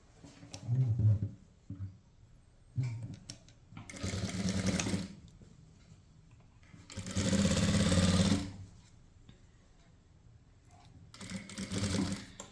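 Sewing machine stitching a blouse, running in three loud bursts of rapid mechanical whirring separated by quieter pauses, with a final burst near the end.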